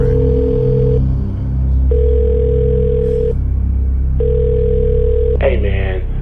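A telephone dial tone sounds loud and close, a steady hum cut into three long stretches by short gaps, ending with a brief burst of dialing.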